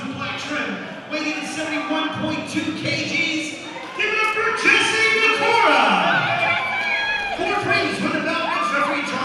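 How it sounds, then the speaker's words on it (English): A home crowd cheers and shouts at a fight event at the Iron Fist 5 combat promotion. The loud, sustained roar runs through the whole stretch with excited voices rising above it. "Sounds like Jesse's got a bit of the home crowd here."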